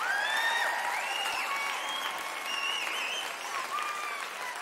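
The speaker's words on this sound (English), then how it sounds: "one more big applause." Audience applauding at a school dance recital, a steady wash of clapping with cheering and whistles rising over it, fairly close and sustained throughout.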